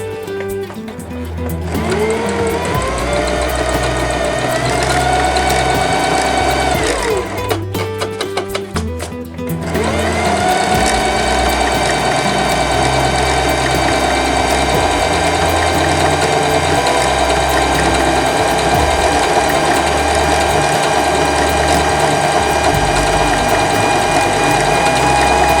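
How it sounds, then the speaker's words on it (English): A Singer Heavy Duty 5554 mechanical sewing machine runs steadily at about half speed, with a loud, continuous whirring motor and a rapid rhythmic needle clatter. There is a brief stutter early on, then an even drone carries through to the end. "on this mechanical machine, I don't want to sew super fast, so I'm just sewing at like a halfway speed"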